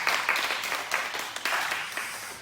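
A church congregation applauds together during a Sunday morning worship service, steady, dense clapping from many hands that carries evenly through the whole clip.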